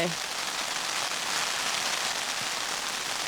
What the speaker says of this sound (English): Oh, it's really raining now.